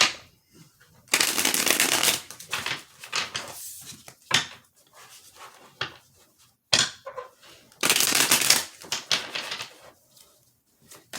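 Tarot cards being shuffled and drawn: several crisp riffling bursts close by, separated by softer slaps and flicks as cards are laid down, with quiet gaps between.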